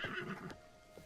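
A short, bright whinny from a horse in the video game Zelda: Tears of the Kingdom, loud at the start and trailing off after half a second, followed by a faint hoof tap.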